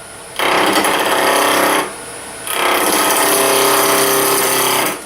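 A lathe gouge cuts a hardwood pencil cup in two loud sustained rasping passes separated by a short pause, with the lathe humming close by.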